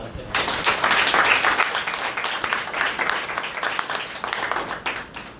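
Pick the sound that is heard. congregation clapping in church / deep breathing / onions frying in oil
congregation clapping in church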